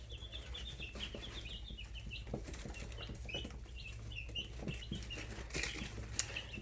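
Young chicks in a tall 110-gallon tank flap their wings in repeated short flurries as they try to fly out, with soft chirps and a steady low hum beneath.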